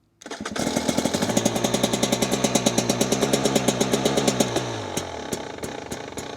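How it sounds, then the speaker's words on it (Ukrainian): A 2024 KTM 300 EXC two-stroke hard enduro motorcycle fires up with the choke on, then settles into a fast, rhythmic, loud, close putter. The rapid firing pulses slow and soften near the end. "Я включив підсос, заводимо мотоцикл."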